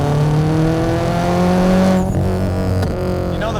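Inside a 440 HP Subaru STI, the engine climbs hard toward its 7,000 RPM redline with a loud rising drone and layered harmonics, then a sharp break as the gear changes and the revs drop.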